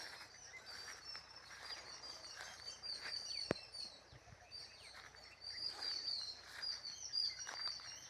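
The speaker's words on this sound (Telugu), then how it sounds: "పక్షుల శబ్దం చూడండి. రకరకాల పక్షులు" Several different birds chirp and sing in the distance in a forest, overlapping high calls scattered through a quiet outdoor background, with one sharp click partway through.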